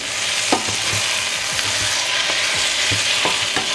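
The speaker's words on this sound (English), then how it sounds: "So the tomato goes in. I'm going to give that a good stir." Tomatoes stirred into frying onions and spices for a lentil curry, with a constant loud sizzle and repeated scraping strokes of a spoon against the pan, no voices.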